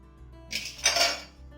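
Contents for jackfruit halwa tipped into a pan over a lit gas flame, giving a short metallic clatter and scrape of utensil against pan, alone and fairly close.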